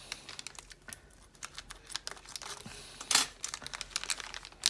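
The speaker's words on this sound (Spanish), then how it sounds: "Vamos a abrir aquí el empaque." Plastic packaging of an X-wing model kit part being torn open, crinkling and crackling in irregular bursts close up, with one sharper rip midway.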